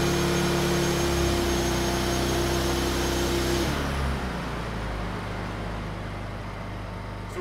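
A Honda EU2000i inverter generator runs at full throttle with a fan and shop vac loading it, a loud, dense engine roar with steady tonal hum that shifts partway through as the engine speed changes.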